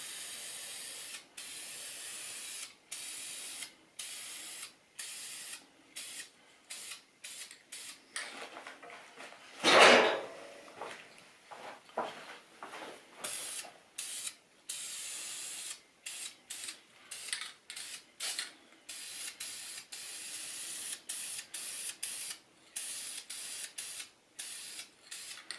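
VHT wrinkle paint sprayed from an aerosol can onto a 2JZ-GTE Supra cam cover, short hissing bursts repeated in a steady on-off rhythm, fairly quiet, with a brief louder rattle near the middle.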